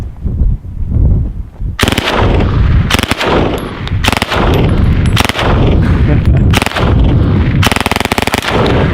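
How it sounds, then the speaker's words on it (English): A WW2-era PPSh-41 submachine gun fires at cinder blocks outdoors in several loud, rapid bursts separated by short pauses, each a dense rattling stream of shots with sharp echoing cracks and no talk. "I'm shooting a machine gun"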